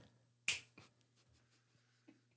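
A single crisp finger snap close to the microphone, followed by a few faint taps and a soft low hum in an otherwise quiet podcast room.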